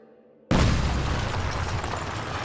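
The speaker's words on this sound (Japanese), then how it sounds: "なんだ爆発音。" Explosion in the Princess Connect Re:Dive video game, a sudden loud boom bursting out of near silence and then rolling on as a dense, gradually fading roar.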